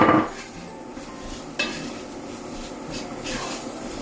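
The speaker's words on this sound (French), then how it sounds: "on rajoute après la pomme de terre et la carotte et on mélange" Potato and carrot being stirred into a pot of Turkish red lentil soup: a scrape of utensil against the pot at the start, then soft intermittent stirring scrapes and light clinks, close and fairly quiet with no talk.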